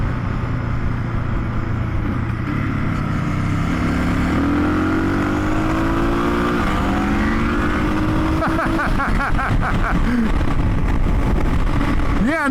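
A Suzuki DR650 motorcycle with a tuned carburetor accelerates hard, its engine note climbing steadily in pitch under loud, constant wind rush, with sharper revs toward the end.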